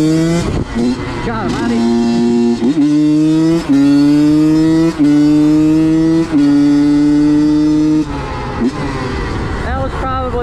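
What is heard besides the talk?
Honda CR85 dirt bike engine revving during ride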